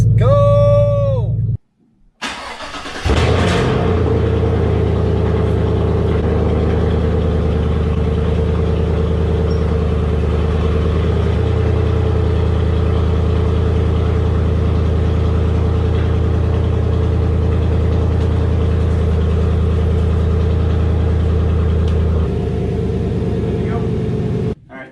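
A Chevrolet Silverado engine cranks briefly after a short gap, then catches and settles into a loud, steady idle with a deep, even drone that carries on until the end.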